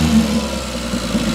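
A mini truck engine idles smoothly just after a valve adjustment, a steady, close, low rumble with no voices.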